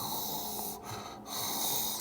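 A voice imitates loud snoring from a man collapsing exhausted into bed, two drawn-out rasping breaths with a brief gap between them, close and alone with no other talk.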